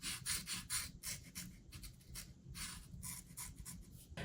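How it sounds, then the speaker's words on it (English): The very tip of a watercolor brush traces a subtle outline on paper, making soft, scratchy strokes that come in short repeated bursts, close up and quiet, with no talking. "I'm going to use the very tip of my brush to give it a subtle outline."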